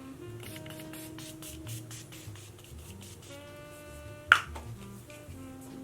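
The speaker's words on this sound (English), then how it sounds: "So while the setting spray is drying" Makeup setting spray misted from a pump bottle in several quick, soft hissing bursts, close and fairly quiet, over light background music.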